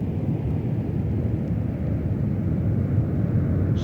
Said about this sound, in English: The position was held until the main gear lifted free and the 757 was flying.